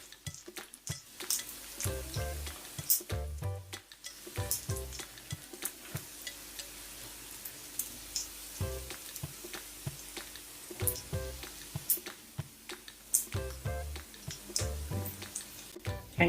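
Chicken pieces for sweet and sour chicken frying in hot oil, a steady close sizzle with crackling pops and occasional clinks of a utensil stirring the batch.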